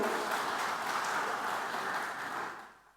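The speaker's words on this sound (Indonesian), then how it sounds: "Boleh berikan tepuk tangannya untuk Bu Aling." Church congregation applause for a woman named Bu Aling, a broad wash of many hands clapping at steady volume that fades out over the last half second.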